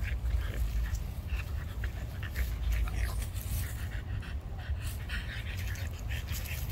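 A playful dog pants rapidly and continuously nearby, a rough rhythmic breathy huffing over a low rumbling background, steady for several seconds without speech.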